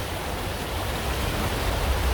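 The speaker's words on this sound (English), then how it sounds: "the creek flowing down" Creek water flows down toward a river at Ben Burton Park in Athens, Georgia, a steady close broadband rush with no voices.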